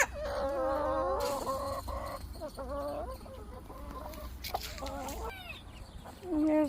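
A Samani hen clucks in a backyard chicken coop, repeated short throaty clucks and murmurs at moderate distance, with some faint background voice and other fowl sounds around.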